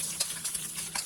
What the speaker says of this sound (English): So just continue to stir fry this.